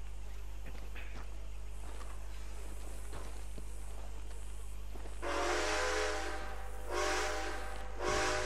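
Train rumble in the video game Red Dead Online with a steam whistle blowing in two long blasts and a short third toot, moderately distant.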